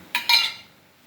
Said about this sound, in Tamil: இப்போ கழுவி வச்ச கருவாடை போட்டுக்கலாம்.